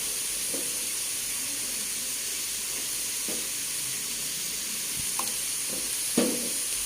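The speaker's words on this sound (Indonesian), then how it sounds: "Kemudian kita aduk-aduk biar bumbunya meresap ke sayur labu siam dan juga terong" A pan of chayote and eggplant with seasoning sizzles steadily while a utensil stirs it, giving a few soft, spaced scrapes and knocks over the constant hiss, with no talking.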